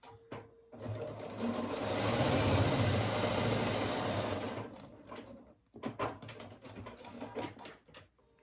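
A sewing machine stitches quilt pieces for a sampler block, running in one long steady burst up close and then in several short, stop-start bursts toward the end.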